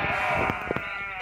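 A sheep in the video game Deer Simulator gives a couple of short, nasal bleats up close over a steady game background.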